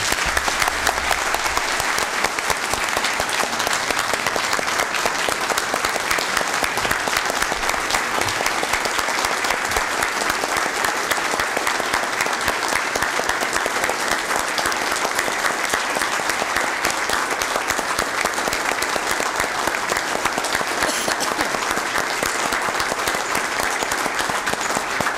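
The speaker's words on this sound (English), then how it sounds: "we commend you, we applaud you." Sustained applause from an audience at a county board of supervisors meeting, steady dense clapping filling the room for about twenty-five seconds without pause and with no talk over it.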